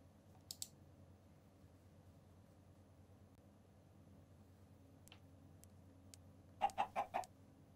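A Minecraft chicken gives a quick burst of several clucks near the end, over a quiet hum with a few faint clicks earlier.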